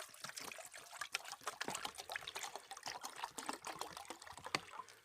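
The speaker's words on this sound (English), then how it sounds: "Just pour the water in." Water poured and trickling outdoors at a wild camp, a soft, fairly faint stream with uneven splashy pulses running throughout.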